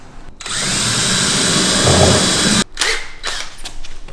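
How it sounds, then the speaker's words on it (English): A power drill boring into a wooden thwart whines steadily for a couple of seconds, close and loud, then stops and gives a few short bursts. "we're going to mark the centre point through with a drill"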